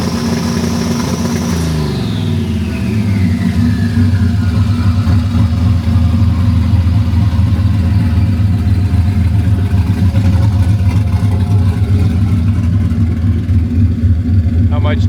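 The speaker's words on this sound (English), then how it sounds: "So we're gonna get the car warmed up" Nitrous-equipped race car engine warming up at an airstrip track, a loud steady rumbling idle with a brief rev that falls away early on, running continuously throughout.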